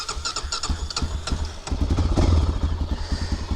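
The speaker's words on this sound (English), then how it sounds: "let's get this baby fired up right now, get her warmed up" Honda 400EX ATV engine with modifications fired up and warming up: a quick cranking chatter catches into a loud, throbbing single-cylinder idle close by, with no talk.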